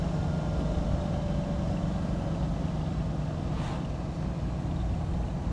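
The V12 engine of a Lamborghini Espada drones steadily on a road test, with constant low engine and road noise under wind and no voices.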